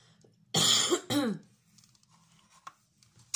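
Two loud, harsh coughs close to the listener, the second a short rasping burst, then quiet room tone with a faint hum underneath.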